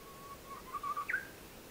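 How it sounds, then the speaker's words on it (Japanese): On the Kumano Kodo trail in Wakayama, a Japanese bush warbler delivers one song, a thin sustained whistle ending in a sharp, bright flourish. It rings out alone against quiet woodland background, moderately close. "私の耳に 美しいウグイスの声、"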